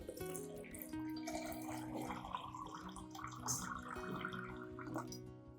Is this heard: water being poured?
yes